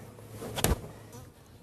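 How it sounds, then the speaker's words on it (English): Honey bees following a freshly removed honeycomb buzz faintly in the background, with one sharp, close whoosh as a bee or brief gust passes by the microphone. "We are being followed by some bees."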